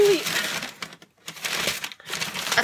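Packing paper from a mail delivery of building-toy sets crinkles and crushes in bursts of dry rustling, with a short quiet gap partway through.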